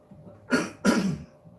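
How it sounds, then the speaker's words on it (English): A person clears their throat twice in quick succession, two short rough bursts close to the microphone in a quiet indoor room, with nobody speaking. "clear my throat, sorry"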